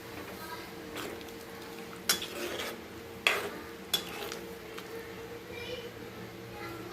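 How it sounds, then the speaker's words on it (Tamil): Okra kara kuzhambu being stirred in a pot gives soft scraping and a few sharp utensil clinks against the metal, close by, over a low steady kitchen hum. "நல்லா கிளறி விட்டுக்கலாம் நல்லா கொதி வரட்டும்"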